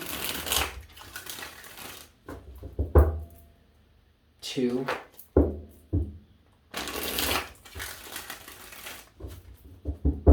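Tarot cards are shuffled in three quick riffling bursts with short pauses between them, close by, while a person speaks quietly in between.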